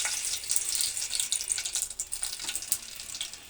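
Dried red chillies and bay leaves crackle and sizzle in hot oil, a steady bright frying hiss with small pops throughout, close and alone without any talking.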